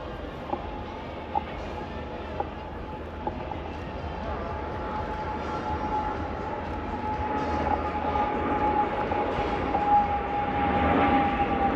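A Royal Air Force Voyager aircraft passes at the Cosford Air Show, a steady jet roar building from a distant rumble to louder noise, with a thin whine and occasional faint clicks.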